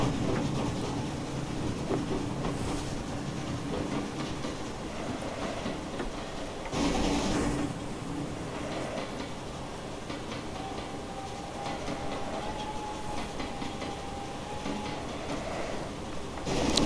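A BR 9F 2-10-0 Franco-Crosti steam locomotive in Train Simulator Classic pulls away with a light train, giving a steady rumbling chuff with a few rhythmic clanks and a thin whistle-like tone, heard alone at moderate level.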